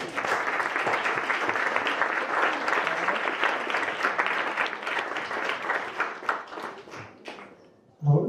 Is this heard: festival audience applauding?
yes